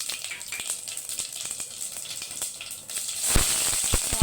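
Cumin and whole spices dropped into hot oil for khichdi and tomato charu, giving a soft crackle that swells into louder, close popping sizzles near the end.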